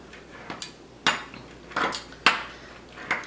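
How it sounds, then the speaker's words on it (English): Cinnamon roll dough is cut into small pieces with a pizza cutter or knife, giving sharp, separate knocks and scrapes against a board, about five of them, close and fairly quiet, with no talking. "this is where you want to get a pizza cutter or a knife, and you want to just start making little pieces"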